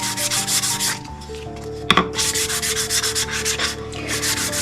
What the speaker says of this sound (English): I'm just going to give these another sand.